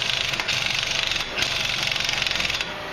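An air tool spins off a 32mm CV axle nut on a 2006 Ford Focus, giving a loud, steady rattling hammer that runs for about three seconds with small surges and no talking.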